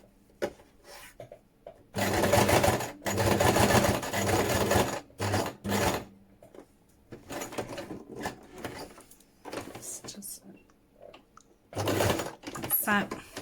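A domestic sewing machine runs in short bursts as it stitches backwards and forwards over fabric, whirring in loud close runs separated by pauses, with someone talking quietly in between.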